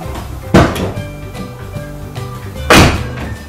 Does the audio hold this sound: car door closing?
yes